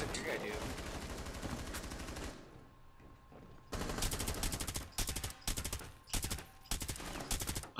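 Automatic gunfire in the tactical shooter Rainbow Six Siege, several loud rapid bursts in the second half separated by short pauses, after a stretch of busier game noise with mixed sounds.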